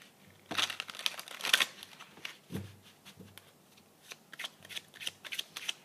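Tarot cards shuffled and dealt out during a card reading, a busy stream of riffling, slapping and papery crinkling with a few louder flicks, close and continuous with no talking.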